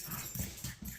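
Excited pet dogs at home as their owner arrives, a short burst of close yips and panting barks in a kitchen.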